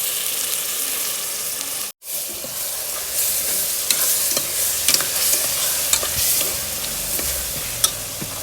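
Curd stirred into a sizzling mutton curry masala in a hot pan, a steady close frying hiss with scraping stirs and a brief dropout near two seconds, no talking.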